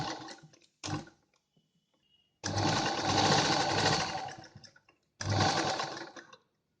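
A sewing machine runs in short bursts while stitching a seam on an A-line kurta. Brief whirs come first, then two longer steady runs with quiet pauses between them, heard close up.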